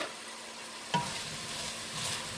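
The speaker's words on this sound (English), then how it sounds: "I'm going to let this cook down." Creamy Cajun pasta jambalaya with sausage and penne cooking down in a pan, a soft steady sizzle with a single brief stir or clink near the start, quiet and close, no talk.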